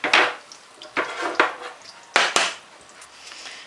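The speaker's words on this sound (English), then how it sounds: "And just stir that up really good." Oil, sugar and flour stirred for dinner roll dough, a utensil clacking and scraping against a bowl in several loud, irregular strokes close by.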